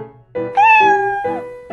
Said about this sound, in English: That's a cute cat.